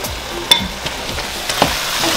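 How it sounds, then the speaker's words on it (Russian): Onion frying in a pan gives a steady crackling sizzle throughout, with a few sharper pops and spatters standing out. No voices are heard. "Буду жарить, потом добавлю перец, паста перца, немножко водички и все."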